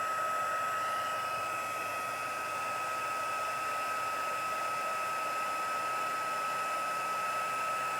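A heat embossing tool blows hot air onto a watercolour card, giving a steady, even whirring hiss with a constant high whine, alone and unbroken throughout.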